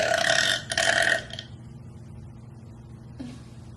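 A long, loud burp lasting over a second, broad and raspy, followed by a quieter tail and a faint short sound near the end, with no talk over it.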